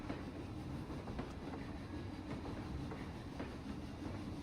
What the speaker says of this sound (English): trains going through